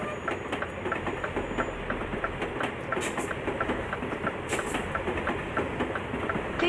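In Euro Truck Simulator 2, a passing train gives off a steady clickety-clack of wheels over rail joints on top of a continuous heavy rumble, fairly loud and close.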